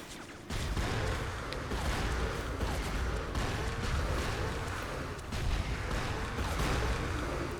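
Grenade bursts detonating instantly on impact in Borderlands 2, a dense run of loud booming explosions and gunfire-like cracks lasting several seconds with a steady roar, no talk.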